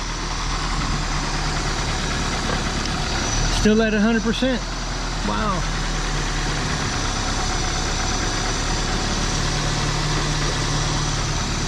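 A car engine idles steadily after being jump-started from a Viking 2000 power bank, a constant close rumble under brief excited talk with a short burst of other noise midway.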